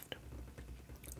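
Soft crunching of mixed nuts, cashews among them, chewed close to the mic, with a few moist bites and squishy mouth sounds in a quiet setting.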